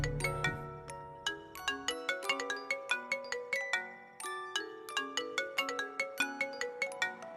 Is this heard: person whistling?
no